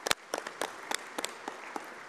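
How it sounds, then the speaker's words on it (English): Conference delegates at a world parliament speakers' meeting clap for the rapporteurs, a sparse scattering of sharp individual hand claps spread irregularly over a couple of seconds, moderately close, with no voices. "I'm going to request all of you to clap for our rapporteurs."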